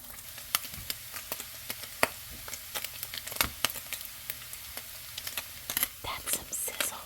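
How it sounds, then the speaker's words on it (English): Spam fried rice sizzles in a hot pan while being stirred, a continuous frying hiss broken by frequent scraping and clicking strokes that grow busier toward the end. "That's some sizzle ASMR for you."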